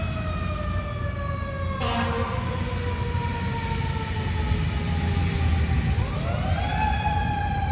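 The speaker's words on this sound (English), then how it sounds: "I'm gonna let that fire truck pass real quick because he's making too much noise." Fire truck siren wailing as it passes, a loud rising and falling tone heard from the street over a steady traffic rumble, with a brief sharp blast partway through and the pitch sweeping upward near the end.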